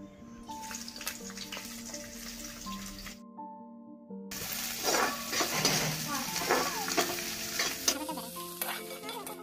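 Onion, chili and garlic sizzling in hot oil in a wok, a dense crackling fry with stirring scrapes and a brief quiet gap before the sizzle surges again.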